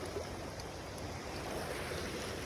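Swollen river running high after heavy monsoon rain, a faint, steady distant rush of flowing water with some wind noise over the microphone, no talking.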